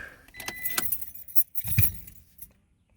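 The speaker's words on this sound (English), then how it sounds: "Okay, turn off the truck" Keys jangle close by as a 2020 Toyota Tacoma SR5 pickup truck is switched off with its key, a brief rattling burst with low vehicle rumble beneath, settling into quiet.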